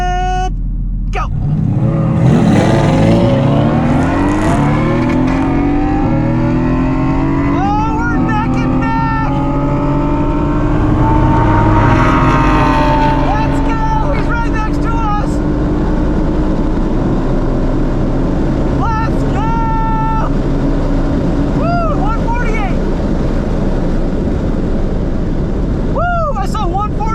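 Mercedes-AMG GT S with a troubled transmission, accelerating hard in a roll race against a Lamborghini Gallardo, engine pitch rising through several gear changes and staying loud, with people talking over it.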